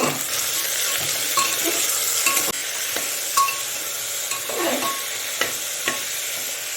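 Chopped tomato sizzling and frying in a pan with green chillies and ginger, for a vegetarian ghugni, with steady crackle and several sharp clinks of a spoon stirring against the pan, no talking.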